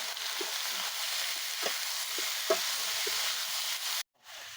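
Jackfruit sizzling in a pan with fried onion and tomato for a village-style mutton and jackfruit curry, a steady loud hiss with a few soft stirring clinks, cutting off abruptly near the end.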